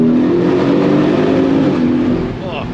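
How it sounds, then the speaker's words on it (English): A Porsche 718 Cayman's engine, rated at 350 horsepower, revs steadily and loudly close by from inside the moving car, holding a droning tone before easing off near the end, with a voice speaking over it. "The engine not only likes to rev"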